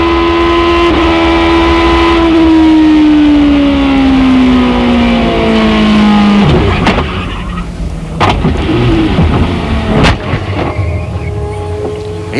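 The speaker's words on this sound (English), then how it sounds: "We're going to go back on board Schecter's car, look back again. We'll just listen." Onboard sound of an IndyCar race car during the 2004 race at Phoenix. A loud, high engine note holds steady and then drops as the car slows, followed by sharp bursts and a rougher, fluctuating idle-like rumble.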